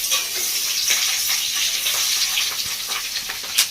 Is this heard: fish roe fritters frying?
yes